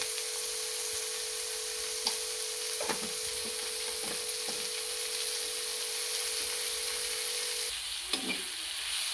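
Onions with a little salt sauté in a pan for pasta, a soft continuous sizzle with scattered scraping stirs of a spatula, close and quiet, without talk.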